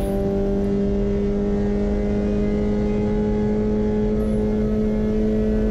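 A race car in a racing video game laps VIR, its engine holding a steady, loud, sustained tone at near-constant revs with no audible shifts.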